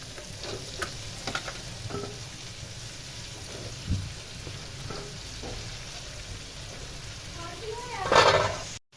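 Bottle gourd (ghiya) tipped into browned masala crackles and sizzles steadily with stirring, then flares into a loud surge of frying near the end, while a person talks over it.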